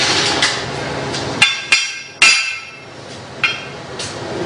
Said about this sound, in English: So I need to tap that with a hammer.